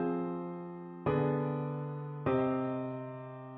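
Three sustained piano-like chords in a progression that includes a seven chord in first inversion, each struck cleanly at roughly one-second intervals and left to ring and fade, quiet and without any voices.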